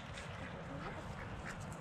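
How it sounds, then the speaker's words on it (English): Geese honking nearby, a busy overlapping chorus of calls over outdoor background noise. "Let me see if I can find me some geese here."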